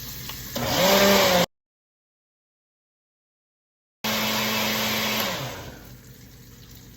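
A blender pulsing eggs to make fluffy egg bites: two short bursts of whirring motor, each revving up and winding down, separated by a stretch of silence.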